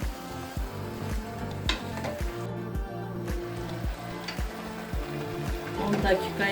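Fresh green beans with tomatoes sautéing in olive oil in a pot: a steady, moderate sizzle and bubbling over a rhythmic, pulsing background.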